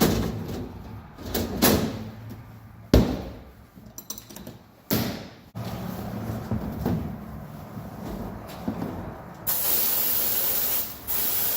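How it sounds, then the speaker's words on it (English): Harbor Freight sandblast cabinet blasting, a loud steady hiss of spray broken by clunks and knocks of handling, then a brighter, harsher blast near the end, close by with no talk. "And now we have a working blast cabinet."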